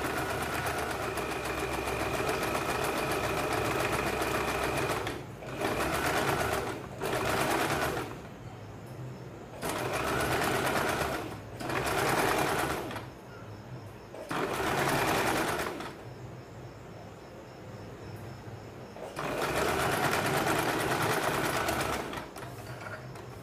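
An electric sewing machine runs double stitching on a blouse in loud, close whirring bursts of varying length, stopping and restarting repeatedly with quieter pauses between runs.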